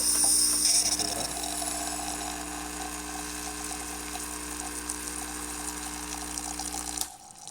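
Gaggia espresso machine, freshly serviced, pulling a shot: a steady mechanical hum with pump buzz and a ratcheting rattle, running continuously near the mic before cutting off abruptly near the end.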